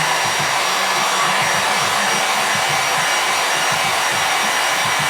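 A hot-air tool blows steadily onto a speaker cone during a dust cover repair, a loud, even, close whooshing roar that holds unbroken throughout.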